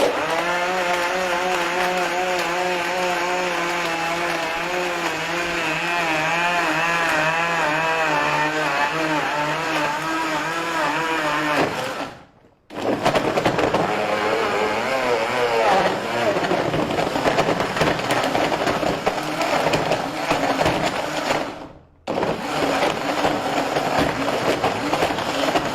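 A Raffal blender loud and steady, grinding ice cubes, vegetables and a little water, with a churning motor tone that briefly cuts out twice before starting up again.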